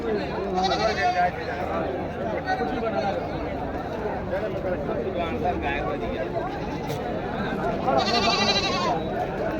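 Goats bleat repeatedly at a goat market in Kambainallur, with nearby loud cries over a steady crowd murmur and people talking throughout.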